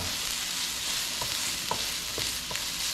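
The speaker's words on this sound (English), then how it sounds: "Now this is stir fry, you don't want to overcook this" Long beans stir fried in a non-stick pan with a wooden spoon give a steady, close sizzle broken by soft, rhythmic stirring knocks, with no talking.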